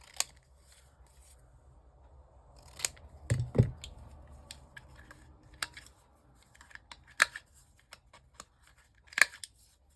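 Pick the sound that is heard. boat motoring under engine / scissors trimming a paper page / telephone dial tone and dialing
scissors trimming a paper page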